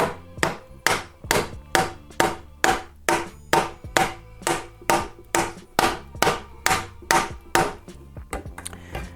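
A hammer strikes a crown race onto a bike fork steer tube, giving about twenty loud, close, metallic blows in a steady, even rhythm, each ringing briefly before the next.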